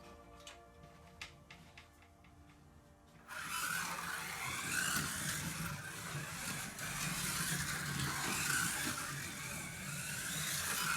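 A Revoslot Texaco Wooding Mk1 Escort slot car runs laps with slightly noisy gear mesh, quiet ticking at first, then a steady whirring motor drone that holds close and continuous.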